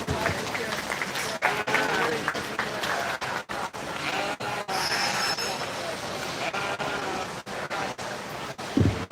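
Steady audience applause fills an arena at a 4-H and FFA sheep show at the Lancaster County fair, dense clapping with crowd noise and a voice mixed in, lasting the whole stretch.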